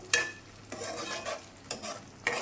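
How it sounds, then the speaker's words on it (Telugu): Quiet frying in oil on a medium flame, a soft sizzle swelling in short bursts as a spoon scrapes and stirs now and then. "ఇలా మంటలు మీడియం ఫ్లేమ్లో పెట్టుకొని నూనె పైకి తేలేంత వరకు వేయించుకోవాలి"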